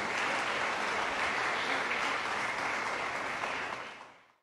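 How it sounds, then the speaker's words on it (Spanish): Loud, dense applause from a crowd at a school graduation ceremony for ninth graders and kindergarten pupils in El Salvador, sustained steadily before fading out at the end. "Démosles un fuerte aplauso,"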